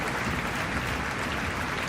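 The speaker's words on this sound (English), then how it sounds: "let's give a round of applause for that" An audience at a live Friday-night show claps in a brief, dense, steady burst, heard fairly close and without talk over it.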